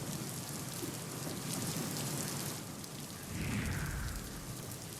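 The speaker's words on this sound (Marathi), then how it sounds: "तर मुंबईमध्ये रात्रीपासूनच जोरदार पाऊस कोसळतोय।" Heavy overnight rain pouring down in Mumbai, a steady dense wash of falling water and drops on surfaces, loud and continuous for the whole stretch with a brief swell near the end and no voices.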